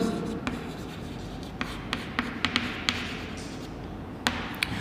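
Chalk or marker scratching across a classroom board in short strokes and taps, close and fairly quiet, over a steady room hum with no talk.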